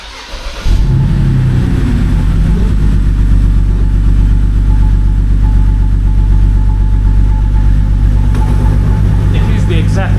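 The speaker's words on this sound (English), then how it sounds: "Let's restart the car. See if the sound we get is the exact same sound." A BMW N52 inline-six restarting with a misfiring coil: a brief crank catches into a loud, steady idle with an uneven, rough pulsing throughout, close up and dominant.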